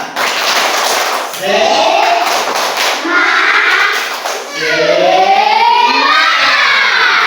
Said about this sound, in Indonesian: kita bikinnya adalah tepuk tangan semangat. Tepuk tangan semangat.